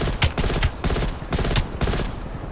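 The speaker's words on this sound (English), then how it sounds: "I'm being shot at" Rapid bursts of gunfire in Call of Duty Black Ops Cold War on the Nuketown Holiday map, several loud automatic volleys close by in quick succession with no talk.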